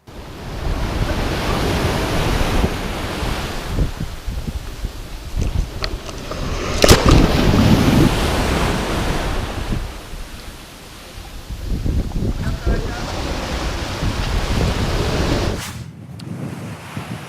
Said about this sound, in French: Nous voici donc sur notre plage